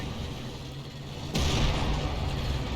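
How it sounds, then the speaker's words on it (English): An artillery barrage in the Company of Heroes 2 war strategy game lands with one sudden heavy blast. A loud, sustained rumble follows it and holds steady to the end. "Yep, a barrage trying to hit those sappers."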